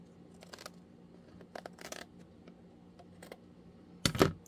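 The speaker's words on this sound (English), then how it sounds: "I'm just going to trim it down with my scissors." Scissors snip fabric trim on a handmade junk journal page, giving a few short, crisp cuts in small clusters, then a sharper, louder snip near the end, close up and with no talking.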